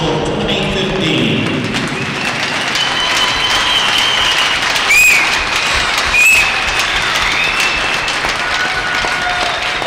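A women's ice hockey arena crowd gives senior players sustained applause after a game, a dense, loud wash of clapping that runs steadily throughout, with a couple of short whistle-like tones cutting through and an announcer speaking over it.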